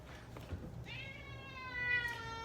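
A cat meows indoors in a single drawn-out, rising call after a few soft shuffling sounds. The meow is faint and close.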